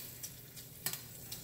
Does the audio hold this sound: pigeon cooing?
no